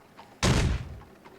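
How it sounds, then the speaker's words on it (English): A single heavy thud of someone falling onto a floor in The Great Ace Attorney Chronicles video game, one sharp loud impact that quickly decays, with no voices. "I heard that loud thud, like someone falling on the floor."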